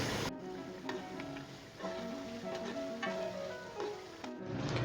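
Korma made with yogurt and meat frying in a pot, a steady soft sizzle with faint crackles and occasional stirring clinks, with no talking.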